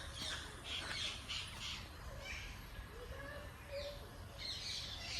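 Macaws of several species squawk from cages at a deer park, harsh calls rising in bursts over a steady outdoor background hum, with a few fainter bird chirps mixed in.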